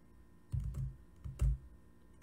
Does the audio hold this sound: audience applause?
no